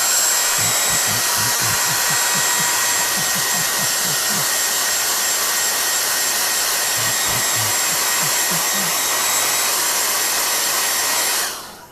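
A handheld blow dryer drying a watercolor painting gives a loud, steady whooshing roar for about twelve seconds, with faint low tapping underneath, before it cuts off at the end.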